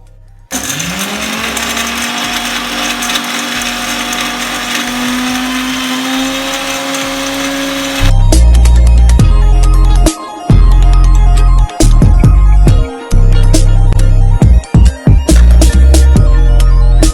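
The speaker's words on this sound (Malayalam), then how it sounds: "നമുക്കിത് മിക്സിയുടെ ജാറിലിട്ട് ഇത് മൊത്തം പൊടിച്ചെടുക്കാണ്ട്" A mixer grinder roars loudly grinding Oreo biscuits in its jar, its pitch climbing as it spins up, then turns heavier and rattling with several short stops and restarts.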